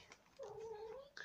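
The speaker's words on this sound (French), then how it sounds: "Et ça, c'est un chat." A cat gives one drawn-out meow lasting most of a second, close and fairly quiet indoors, followed by a short trailing chirp.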